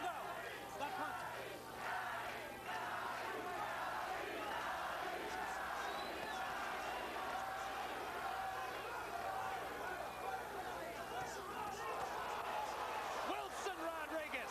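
A boxing arena crowd roars continuously during the Arturo Gatti vs Wilson Rodriguez fight, a loud, sustained wall of cheering and shouting with a commentator talking over it throughout.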